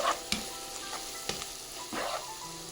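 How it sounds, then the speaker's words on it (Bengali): Salted hilsa being stirred and sautéed with spices in a pan, with nearby scraping strokes of the spatula over a constant oily sizzle, several distinct stirs across a short stretch and no voices. "আগে দিয়ে দিচ্ছি ভালো করে নেড়ে"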